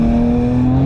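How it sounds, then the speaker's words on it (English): A 1000hp 9ff Porsche Turbo engine pulls hard under boost with all-wheel drive, a steady, loud drone with strong low harmonics filling the brief moment, no voices. "When the boost kicks in, all-wheel drive spinning."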